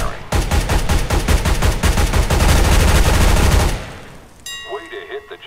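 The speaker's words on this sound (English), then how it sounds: "Pick up that weapon and unload the clip into the target." Rapid automatic weapon fire from CS:GO at a weapon course target, a loud dense burst of shots lasting several seconds before cutting off, followed by faint tonal game sounds.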